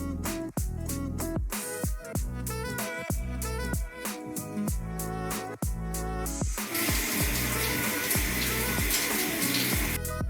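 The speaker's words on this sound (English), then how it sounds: "Rotate the diverter knob to the right to activate the hand shower." A hand shower on a Hydromax 717N3 diverter mixer turns on, and a broad, steady spray of running water fills the second half. Background music plays throughout.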